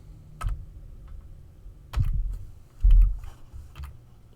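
Scattered key presses on a computer keyboard, a few distinct clicks and soft thumps spread unevenly across a few seconds, close and fairly quiet.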